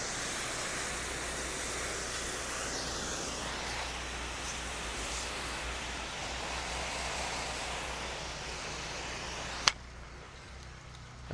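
A hose sprays steady, hissing water across vinyl siding for about ten seconds, a broad, even rush of noise that ends abruptly and leaves a quieter, thinner wash behind it.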